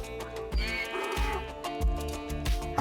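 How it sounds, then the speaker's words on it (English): Sheep bleating in the Minecraft video game, several short repeated bleats at close range over steady background game music. "There's a sheep."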